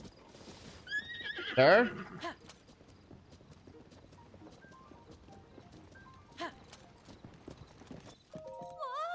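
A horse in Zelda: Tears of the Kingdom gives a loud, rising whinny near the start while hooves clip-clop softly in a steady walking rhythm, with a brief spoken word and a few chiming game sounds at the end.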